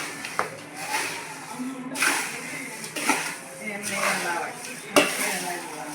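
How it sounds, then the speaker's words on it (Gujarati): Crunchy Gujarati chavanu snack mix tossed with salt, stirred in repeated scraping, rattling bursts roughly every second, close and fairly loud, with a person talking over parts of it. "હલાવી દો એકદમ કુરકુરી અવાજ આવે છે ને"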